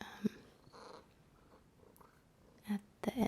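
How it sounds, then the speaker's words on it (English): A cat purring close up in a soft-spoken ASMR setting, a low rumbling purr with a few louder breathy bursts and snorts toward the end, faint and intimate with no talking. "She's got a really special, magical purr"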